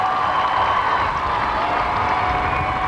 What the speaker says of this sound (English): The crowd is just huge out here as we pass the 1 mile to go mark.